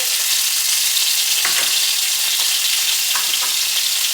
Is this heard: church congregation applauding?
no